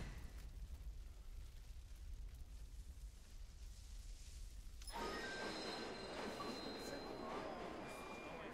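Train emergency stop in the video game Halo ODST: a steady low rumble gives way midway to a sudden loud, harsh grinding of braking with thin metallic squeals layered on top, sustained to the end.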